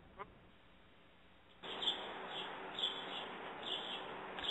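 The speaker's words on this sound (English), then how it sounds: "I hear the birds." Birds call in the background outdoors, repeated faint chirps and quacking calls over a steady hiss that starts partway through, with no voices.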